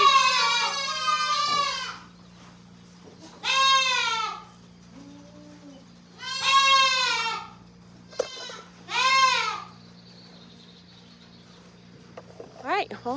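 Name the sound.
goats bleating on a farm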